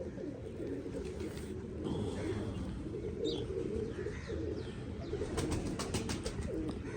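Teddy-breed pigeons coo softly in a loft, low rolling calls repeating under a steady rustle, with a few faint chirps and some quiet background voices.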